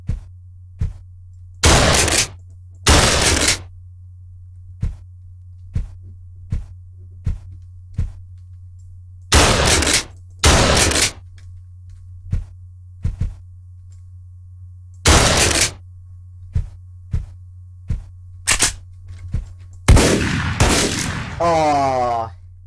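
A combat shotgun in the video game Deadbolt fires in loud, sharp blasts, some single and some in quick pairs, spaced irregularly over a steady low hum, with a louder burst and ringing tail near the end.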